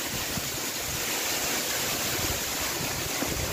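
Lamassua waterfall in Bontomasunggu, Bone, heard as a continuous loud broadband roar of falling and rushing water, steady and close with no breaks and no voices.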